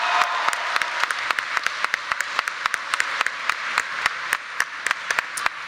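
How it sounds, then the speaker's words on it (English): Audience at a college commencement applauding platform guests, with steady dense clapping and some louder sharp claps standing out, moderately close and continuous without talk. "Now, let us give our platform guests a round of applause."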